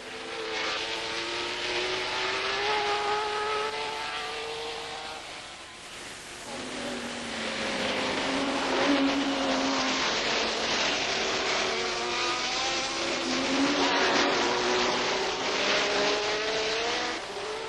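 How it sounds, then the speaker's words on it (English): Group 5 racing cars, a Gulf Porsche and a prototype Ferrari, roar around a twisting circuit on a 1971 British club race day, engines rising and falling in pitch as they pass, loud and sustained. "The big Group 5 cars were proving to be a handful on this twisting circuit, and Rodriguez, in the Gulf Porsche"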